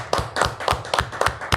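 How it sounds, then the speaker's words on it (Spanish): Clapping breaks out for a guest in a television studio during a Spanish-language economics program, heard as a brisk run of about six sharp, evenly spaced claps close by. "Un aplauso para nuestro invitado."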